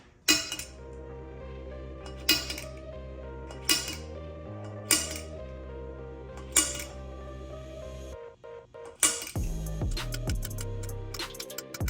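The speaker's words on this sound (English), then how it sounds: "now what I'm gonna do is try and scribe it with my punch" Metal punch scribing a line on an intake manifold part for a budget custom build, heard as a handful of sharp metallic clinks spaced about a second or two apart over a steady background hum, ending in a busier cluster of taps.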